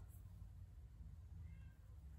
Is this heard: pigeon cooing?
no